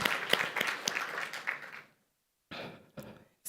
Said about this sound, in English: let us clap for ourselves and clap for our hosts